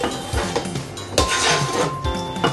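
Pineapple pieces dropped into a bowl of mango salsa ingredients, with several close clinks and knocks against the dish in quick succession and no voice.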